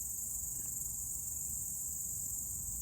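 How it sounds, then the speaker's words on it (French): Dense, continuous high-pitched chirping of crickets fills an outdoor natural setting, steady and unbroken throughout, with faint low rumble beneath. "Je pense que c'est eux qu'on entend"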